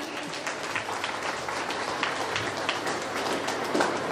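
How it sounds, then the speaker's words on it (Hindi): Audience at a parish day celebration in Ranchi applauds a cultural dance with sustained, dense clapping from a large crowd, steady and fairly loud throughout. "मुरमा की माता पिता भाई बहनों के सांस्कृतिक डांस के लिए जोरदार तालियां बजा देंगे।"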